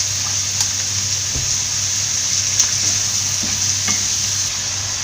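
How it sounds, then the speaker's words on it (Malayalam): Two large sliced onions, salted, fry in hot oil for Kerala-style butter chicken, making a constant close sizzle with stirring scrapes and no talk. "എണ്ണയിലേക്ക് അരിഞ്ഞു വെച്ചിരിക്കുന്ന 2 വലിയ സവോള ഇട്ട് കൊടുക്കാം"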